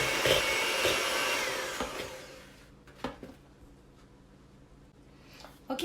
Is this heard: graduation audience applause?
no